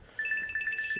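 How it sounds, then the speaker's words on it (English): A telephone ringtone warbles in a rapid repeating electronic pattern, starting abruptly and continuing loud and close with no voices over it. "This is a very inconvenient time to have my telephone ring."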